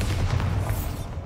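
A Bombarda spell exploding in the video game Hogwarts Legacy, heard as one loud, close, low booming blast that rumbles on and fades over about a second.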